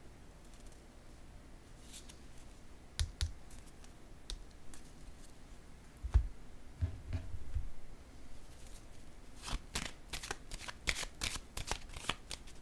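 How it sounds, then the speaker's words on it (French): Tarot cards being shuffled and laid down on a table in a quiet reading, with repeated crisp riffling bursts, soft slaps of cards landing and a few light taps, close and fairly quiet. "Je vais déposer une carte ici."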